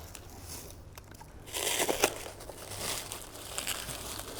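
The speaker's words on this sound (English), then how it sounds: "Let's unwrap that Impala." Plastic wrapping crinkles and crackles as it is pulled away from a taxidermy impala mount, with brighter, louder rustling bursts midway and softer crumpling continuing after.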